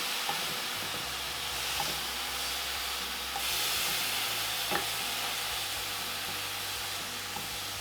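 Vegan BLT ingredients stirred and shifted in a hot frying pan, a steady sizzle and hiss with occasional scraping knocks from the utensil, close and continuous with no talking.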